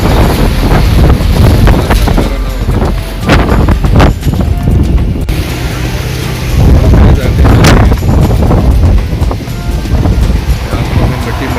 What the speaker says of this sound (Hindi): बहुत तेज़ आंधी चल रही है, इसमें मोटरसाइकिल पर नहीं चलाने वाला।